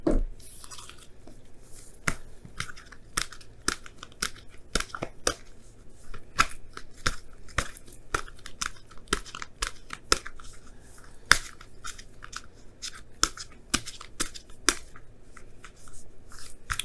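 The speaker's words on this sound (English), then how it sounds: "Now I'm going to pull you guys your wisdom of the oracle cards for this week." Oracle cards are shuffled and pulled by hand, making a long run of quiet, close riffling and sharp flicking snaps in an irregular rhythm.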